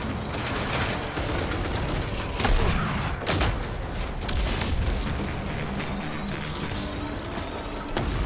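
Rapid weapon fire from the shooter game Rage 2, with dense bursts of shots, booms and mechanical clatter filling the mix loudly and continuously.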